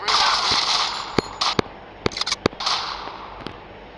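Gunfire in the GTA Vice City video game: several sharp, loud single shots ring out at irregular intervals over a bright, hissy game ambience, with no talk.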